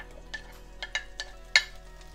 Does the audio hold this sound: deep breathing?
no